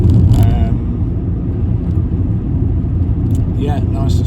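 A 1990s VW Golf MK3 hatchback cruises at a steady pace through traffic on a road with potholes, its engine and road rumble loud and constant, with someone talking over it.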